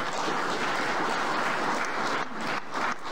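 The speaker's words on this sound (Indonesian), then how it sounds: "Jangan tepuk tangan dulu." An audience bursts into sustained applause at a presidential briefing by Joko Widodo, a dense, even wash of clapping that briefly thins and dips a couple of times near the end.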